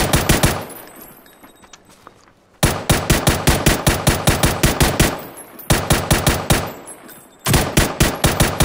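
Rapid automatic gunfire in PUBG Battlegrounds, loud close bursts of evenly spaced shots with a pause near the start and another mid-clip, each burst cracking sharply in quick rhythm.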